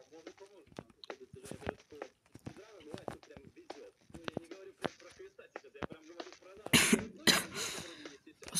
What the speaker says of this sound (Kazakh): менде жөтел тамағы ауырып жатыр